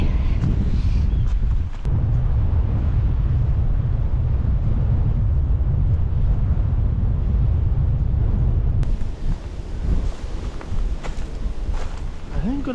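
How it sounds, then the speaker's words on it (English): Strong wind gusts on a frozen riverbank in Scotland on a very cold November night, roaring heavily against the microphone with low buffeting rumble, then easing slightly while a person speaks and moves about. "really windy."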